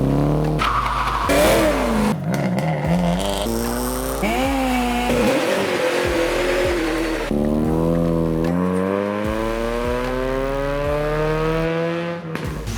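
A Mazda Miata engine revs hard up a steep hill climb at a racing event, rising and falling through repeated gear changes, loud and close, with short tire squeals between pulls.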